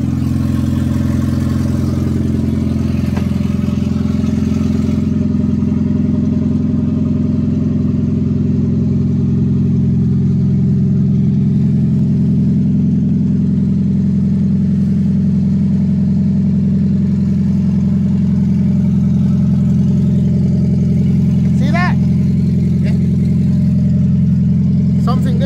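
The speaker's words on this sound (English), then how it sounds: "this is how the car sounds like now" Toyota Prius engine running steadily with its catalytic converter cut off, a loud, continuous low droning rumble that holds a constant pitch throughout, with no revving or gear changes, heard close by.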